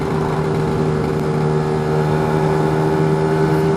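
A Lambretta scooter engine running through a BGM PRO MZ30 exhaust, holding a steady, loud, buzzing drone at constant revs while riding.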